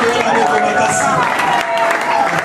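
Church congregation at a prayer convention in Morocco applauding the Lord: loud, steady clapping from a crowd, with voices and shouts mixed in throughout.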